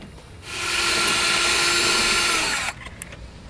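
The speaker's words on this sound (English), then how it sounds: "I'm going to make myself a pilot hole going through the insulation here and the metal backing there" A drill boring a pilot hole through insulation and metal backing on a 2009 Jeep Liberty spins up and runs with a steady high whine for a couple of seconds, then cuts off, leaving faint clicks.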